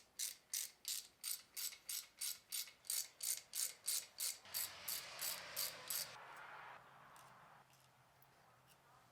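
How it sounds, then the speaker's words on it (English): Stator being removed from a chopper motorcycle engine: a fast series of sharp, even mechanical clicks like a ratchet or impact tool, about a dozen close, loud bursts, followed by a softer rattling scrape as the part comes loose. "Alright, now to get the stator off."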